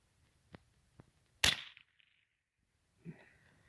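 A quiet .22 Long rifle or .177 air rifle fires once, a single sharp crack close by, with faint clicks before it and a small knock afterward.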